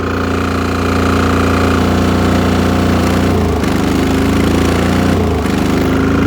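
A loud small engine of an MEP-831A military generator runs steadily and then briefly stumbles twice after its load is removed, its rhythm faltering before it picks back up, with no voices.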